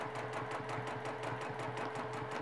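Up-and-down free motion quilting stitches come from a sewing machine working through a quilt block, a steady run of quick rhythmic needle taps over a low motor hum, quiet and close.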